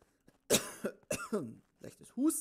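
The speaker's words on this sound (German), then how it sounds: "Leichtes Husten im Gesicht." A light cough during an online Among Us game on Discord: one short, close cough, followed by a few brief voiced throat and mouth sounds.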